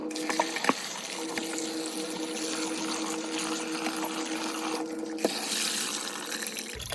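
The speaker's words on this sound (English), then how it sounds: "I add it to the sieve, then I run water on it." Tap water runs steadily into a sieve of efo leafy vegetables in a sink, a continuous close splashing hiss with a few faint knocks, no talk.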